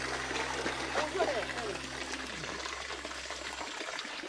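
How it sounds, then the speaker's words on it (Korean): Steady running water flows throughout an outdoor water play area at a pension in Jeongseon, South Korea, a continuous broadband rush with a low hum underneath, fairly close and even in level. "물이 시원하게 잘 나오네요"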